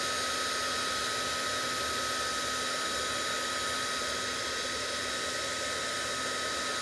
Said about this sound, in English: you want to make sure you get the whole image heated and that it's changed to the shiny, clear embossing look